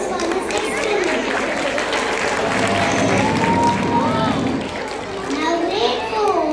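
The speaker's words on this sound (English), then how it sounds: "Let us give them a big round of applause for this experiment." An audience at a school National Science Day event applauds after a student science experiment, steady clapping mixed with children's chatter and an excited young voice rising over the crowd.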